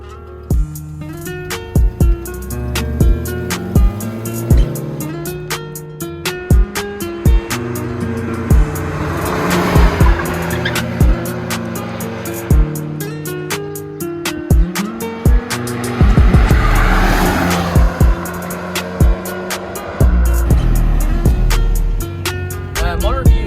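Nissan R31 wagon with a manual gearbox drives hard, its engine revving up and dropping through repeated gear changes, loud and close from inside, with tires squealing during the pulls.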